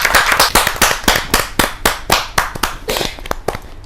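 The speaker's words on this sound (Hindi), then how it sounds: "जोरदार ताली के साथ।" Lively applause at a Hindi poetry gathering (kavi sammelan) as a poet is welcomed, with close, sharp, rhythmic claps landing several times per second and only a few people clapping.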